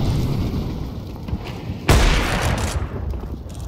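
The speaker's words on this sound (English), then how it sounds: "Flashbang out." A flashbang grenade goes off in Counter-Strike 2 on the Mirage map, one sharp loud burst near the middle that rings out over steady background game noise. No one talks over it.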